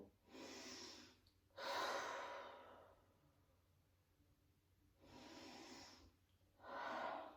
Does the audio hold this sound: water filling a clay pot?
no